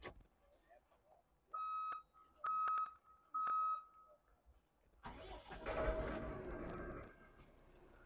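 A Pellenc EOLE grape harvester powering up: three short electronic beeps spaced evenly, then the engine cranks and catches into a rough mid-pitched idle, moderately close.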